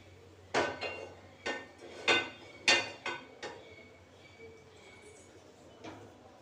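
A kadai being set onto a kitchen stove: a run of sharp metallic clanks and knocks, close and fairly loud, bunched in the first few seconds, then a fainter tap later over quiet room noise.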